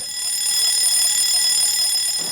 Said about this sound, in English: The general alarm might sound.